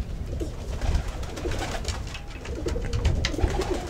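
Pigeons coo repeatedly at a pigeon-flying event in Akrini, Kozani, with overlapping soft calls close by over outdoor background noise and no talk.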